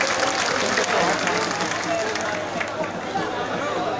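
A rally crowd breaks into loud, dense applause mixed with cheering and murmured chatter, holding strong before easing slightly toward the end.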